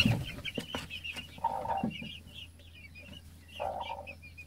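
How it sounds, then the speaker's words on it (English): Broody hens in a coop jostling over a roosting spot, giving soft, low clucks and short, quiet squawks in irregular bursts, with faint shuffling and rustling. "Her final attempt is to squeeze in beside Nutmeg, shoving her sideways so that she gets the coveted roosting position."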